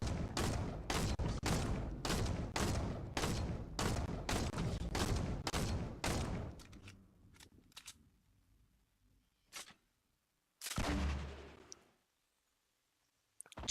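A grenade launcher in Fortnite fires a rapid rhythmic volley of about a dozen sharp thumping shots, loud and close, then a few scattered isolated blasts after a quiet gap.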